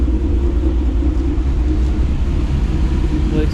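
A stock S650 Mustang GT with a full E85 tune and 10-speed gearbox idles with a deep, close, continuous low rumble, steady and heavy throughout.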